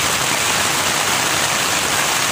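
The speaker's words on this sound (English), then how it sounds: "Wind, rain, wind driven rain, thunder, lightning." Steady, dense rush of heavy wind-driven rain pounding a tent during a storm, loud and unbroken, with a broad hiss and no voices.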